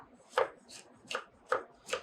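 A knife cuts bell peppers into julienne strips on a cutting board, five crisp, evenly spaced chops about every 0.4 seconds, close and clear with no talk.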